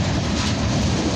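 A CN freight train pulling out of Dorval, heard as a loud, steady, close rumble and roar of rolling cars with no break.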